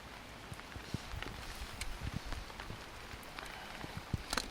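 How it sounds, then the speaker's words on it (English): Heavy rain patters and hisses outdoors, with scattered louder drops and taps striking nearby surfaces throughout. "It's raining heavily."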